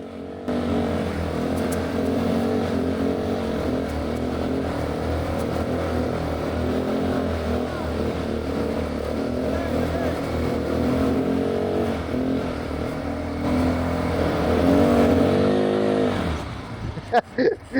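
An ATV climbs a hill on an off-road trail at Tongkaboti Nature Retreat in Bandarban, its engine droning loudly and steadily, swelling briefly before cutting out with a few sharp knocks at the end.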